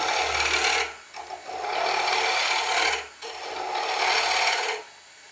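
A 3/8 bowl gouge cutting wood on a lathe, a steady rasping scrape in three long passes with short pauses between, close and loud with no talk.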